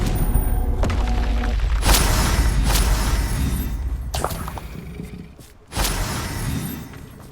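A Confringo fire spell explodes in the Hogwarts Legacy game, several booming impacts and crackling bursts over a rumbling low background, with a sharp blast near the end followed by lingering rumble.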